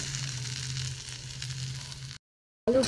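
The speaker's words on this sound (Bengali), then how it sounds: "এবার একটু ভালো করে কষিয়ে নেব আলুর পুরটা, নাহলে টেস্ট হবে না।" Spiced potato filling with coriander leaves sizzles steadily while being fried in a pan for egg chops, a continuous close frying hiss that cuts to silence before a brief clatter.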